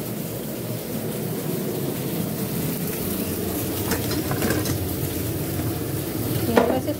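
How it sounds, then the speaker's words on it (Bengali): Leafy greens frying in a pan, a steady close sizzle with occasional stirring scrapes and clinks, no talk. "এগুলো শাকটা ভাজা হচ্ছে।"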